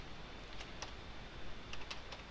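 Soft keystrokes typing code on a computer keyboard, a few faint separate taps under steady background hiss, heard alone without speech.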